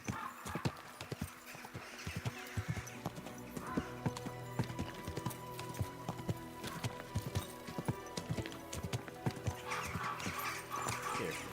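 Steady clip-clop of horse hooves in Kingdom Come Deliverance 2, a continuous brisk riding rhythm of sharp hoof strikes heard close, with faint background ambience and no talking.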